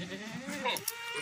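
A Rajanpuri goat, a milking female kept for sale, lets out a short, close bleat lasting about a second, mixed with a person talking nearby.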